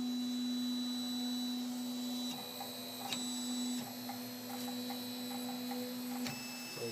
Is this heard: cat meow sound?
no